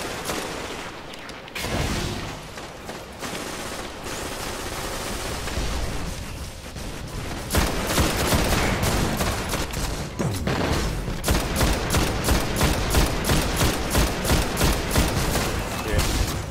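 Rapid bursts of gunfire from a boss fight in the video game Destiny's Venus Vex strike, loud and dense, with sustained automatic volleys and sharp repeated shots building in intensity through the second half.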